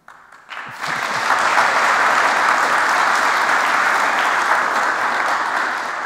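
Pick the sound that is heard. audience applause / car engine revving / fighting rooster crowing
audience applause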